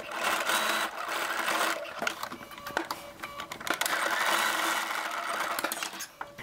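A sewing machine stitches a pocket on a T-shirt swing dress in quick rattling bursts, pausing briefly between runs, close and fairly quiet with no talking.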